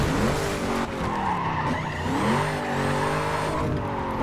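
Pontiac GTO drifting on a mountain road in NFS Carbon Redux: a sustained tire skid with a wavering pitch over a droning engine, loud and close throughout.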